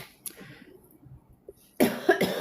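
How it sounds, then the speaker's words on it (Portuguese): A single short allergic cough breaks out after a near-silent stretch, followed by a second smaller cough, close to the listener. "Esta tosse alérgica está a dar cabo de mim."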